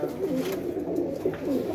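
Shahid bhai's flying pigeons coo softly at close range, repeating low, rolling calls in a steady rhythm over a quiet background.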